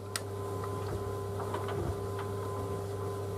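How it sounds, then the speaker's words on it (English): A clothes dryer runs with a steady mechanical hum and drone, scattered light ticks and clicks from tumbling laundry throughout, no voices. "Just in the dryer drying"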